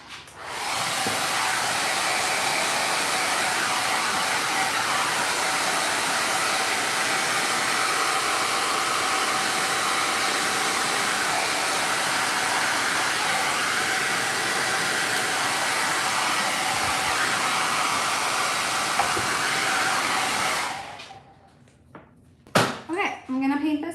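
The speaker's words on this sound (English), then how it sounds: "I'm gonna blow dry this" A hair dryer blows steadily and loudly for about twenty seconds while drying paint on a craft piece, then cuts off abruptly near the end and brief sounds follow.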